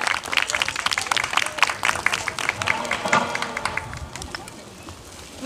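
Audience applause after a stage performance at an evening concert, dense clapping from a crowd that starts strong and gradually thins and fades.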